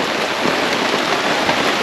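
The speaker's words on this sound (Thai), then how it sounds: "อย่างเงี้ยตกไม่หยุดเลยฝน" Heavy rain pours down steadily on a deserted island during a squid-fishing trip, a dense, loud, unbroken hiss with no voices.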